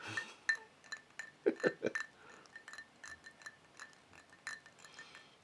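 A finger stirs a bourbon cocktail in a glass, giving light, quick clinks and taps of glass and ice. The sounds are close but soft, clustered in an irregular stir with faint background hum.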